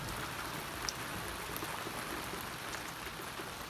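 Rain falls on a moored boat during a storm as a steady, dense hiss of drops with no pauses. It sounds fairly quiet and even, with a few faint taps standing out.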